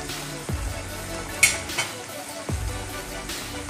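Coconut milk poured into a pan of simmering fish for paksiw sa gata gives a soft steady sizzle and bubbling, with a few light clinks of a utensil against the pan.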